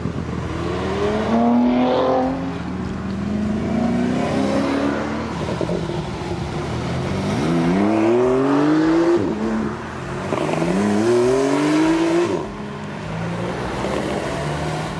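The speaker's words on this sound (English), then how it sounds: "the valley echoing out a pretty neat sports car symphony" A Porsche 992 C4S sports car accelerates along a mountain road through a valley near Geiranger, its engine note sweeping upward in several loud rising revs that echo off the valley, with no voices.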